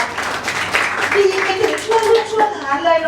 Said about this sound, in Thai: ขอเสียงปรบมือกับคำทำนายนี้อีกสักครั้งค่ะ